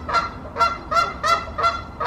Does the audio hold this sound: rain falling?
no